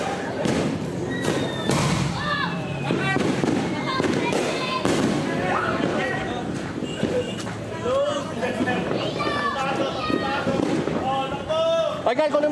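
Fireworks and aerial shells burst and thump during New Year's Eve celebrations in the Philippines, repeated booms and crackles mixed with excited shouting voices nearby, dense and loud throughout.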